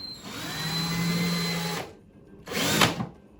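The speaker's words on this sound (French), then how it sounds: "faites très attention en utilisant votre perceuse pour ne pas vous blesser" An electric drill bores into a plastic jerrycan, whining steadily for nearly two seconds, stopping briefly, then revving again in a short, louder burst, close and with no talk over it.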